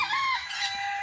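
A chicken on a farm in Jamaica gives a short run of bright, close clucking calls, steady and fairly loud for about a second with no talk over it.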